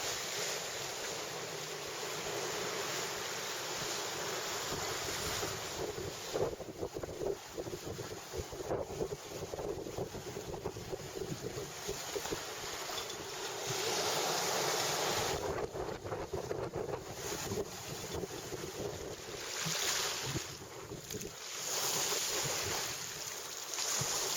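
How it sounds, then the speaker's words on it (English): Roaring 30-knot southwesterly wind buffeting a sailboat in big ocean swells during the McIntyre Golden Globe Race, with constant loud wind rush, microphone buffeting and surging water sounds throughout. "Got about a 30 knot southwesterly. Quite big swells coming in."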